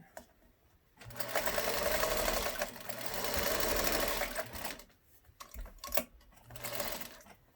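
Sewing machine stitching fabric for a collage hat, in bursts of rapid mechanical whirring separated by short pauses, close and fairly quiet.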